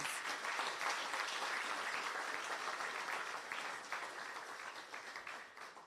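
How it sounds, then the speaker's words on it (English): A crowd at a service excellence award ceremony applauds steadily, a dense wash of many hands clapping that holds strong for several seconds before easing off slightly. "Please give yourself a good round of applause."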